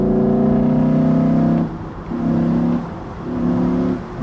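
Porsche 911 GT3 RS engine lugging in high gear at low speed, a deep, close, droning hum that swells in three throttle pulses with short dips between them and no talk.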